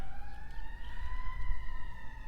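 An ambulance siren wails near LAX airport: a steady, sustained tone over low traffic rumble, moderately loud and continuous throughout.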